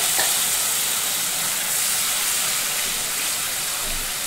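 Ground spice paste with asafoetida sizzles in hot oil for a bottle gourd kofta curry, a steady close hiss that stays even throughout.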